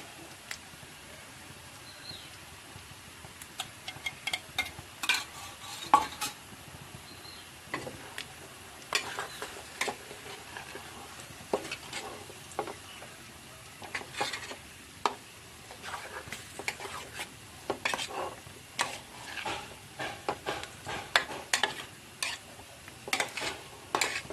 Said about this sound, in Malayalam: കൂട്ടി ഇളക്കി യോജിപ്പിച്ചിട്ട്